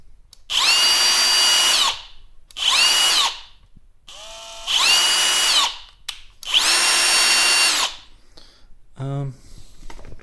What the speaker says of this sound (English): Here's the drill.